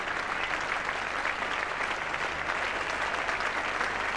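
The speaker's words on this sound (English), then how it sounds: "Getting applause from the fairly meagre crowd here today, but getting a very good hand from the Australians." A sparse crowd at The Oval applauds during the fifth day of a 1975 England v Australia test match, giving a steady, even patter of clapping that continues throughout.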